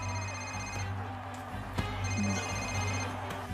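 Telephone ringing during an outgoing call, a steady electronic ring tone heard continuously at moderate level, set in a dramatic film scene with a low background hum and no speech over it.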